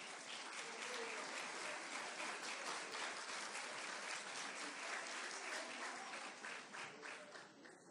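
An award ceremony audience breaks into sustained applause, with even, dense clapping filling the room for several seconds before it starts to fade near the end.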